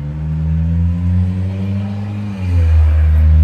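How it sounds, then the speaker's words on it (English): A loud car motor in urban street traffic, a deep throbbing engine drone that swells and dips as it revs, close and dominant with no talk. "so sorry for traffic noises"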